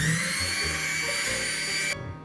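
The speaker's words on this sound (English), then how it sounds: "I'm turning on the mixer" Electric hand mixer whirring at its lowest speed in a kitchen bowl, a steady buzzing motor tone close by that cuts off abruptly near the end.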